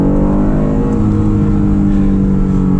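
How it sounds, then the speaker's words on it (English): A 2005 Acura NSX engine pulls away with a loud, steady drone and a dense stack of harmonics, rising in a smooth, continuous run heard from inside the cabin. "now we're inside my 2005 Acura NSX. Let's take it for a quick spirited drive"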